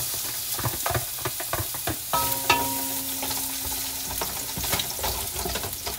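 Onion frying in hot oil gives a steady crackling sizzle, broken by scraping stirs and a brief metallic ring partway through, with no talking.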